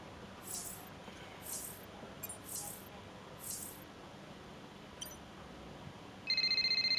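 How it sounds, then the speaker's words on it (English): A phone ringing in the F1 23 racing video game, four evenly spaced faint trilling rings over a quiet background hum, followed by a short electronic tone at the end. "Here's the phone call."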